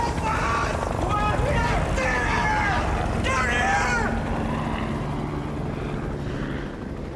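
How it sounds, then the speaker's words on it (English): A search and rescue helicopter passing over a narrow canyon, a loud steady rotor drone that fades slightly toward the end, with speech heard over it. "A search and rescue helicopter has passed within meters of the top of their canyon."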